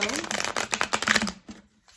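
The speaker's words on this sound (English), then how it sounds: "shuffling this deck. It's a really nice one. It shuffles easily. It shuffles well." A deck of tarot cards is shuffled by hand, a quick run of riffling, slapping card sounds that tapers off near the end, with a voice talking faintly underneath.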